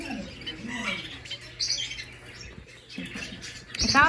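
Finches at a bird farm give quick, scattered chirps and squawks, a few close bursts breaking over a low indoor hum, with short sharp calls near the end.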